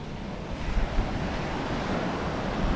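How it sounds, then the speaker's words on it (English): Strong wind of about 15 mph roars over a continuous wash of ocean surf at New Smyrna Beach, a dense, steady rushing noise with occasional gusts buffeting the microphone. "the wind's picking up about 15 miles an hour now"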